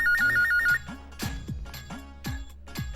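Telephone ringing in a scene from the comedy series Bhatti Aur DD: a warbling electronic ring for under a second, then several sharp thuds or knocks with sliding tones, all fairly close with no speech.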